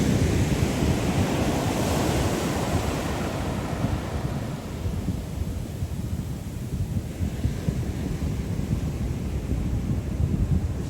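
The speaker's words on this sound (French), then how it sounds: "la vague elle vient vraiment beaucoup plus loin que moi" Ocean waves surge and break on a beach at Half Moon Bay, a loud, continuous roar of surf and foam with gusty wind buffeting the microphone, the wash swelling early then easing slightly.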